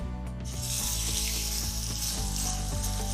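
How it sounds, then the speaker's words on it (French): Olive oil heating in a frying pan sizzles in a bright, steady hiss, close and continuous, mixed with a sustained tonal background of music throughout. "On va ajouter un filet d'huile d'olive dans notre poêle. On va attendre que l'huile chauffe un petit peu."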